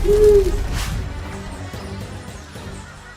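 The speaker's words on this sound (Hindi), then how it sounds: "पप्पू झट से उस पेड़ पर चढ़ जाता है और देखता है कि एक बहुत भयानक सा उल्लू पेड़ की डाल पर बैठा हुआ है।" An owl sound effect in a Hindi horror story gives a loud, clear hoot at the start, which fades into a dull, decaying rumble.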